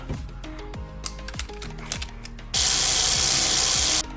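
A ratchet clicks in short bursts while tightening a bolt on 10th-generation Honda Civic brakes, followed by a loud, steady hiss that starts abruptly and holds for over a second before cutting off.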